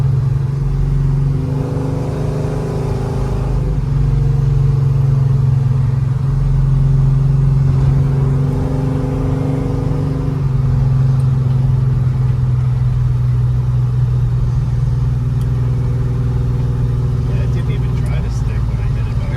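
A 1971 Chevelle with a 502 big block V8 drones steadily from inside the car on a ride along, its deep rumble swelling and easing with throttle as people chat over it.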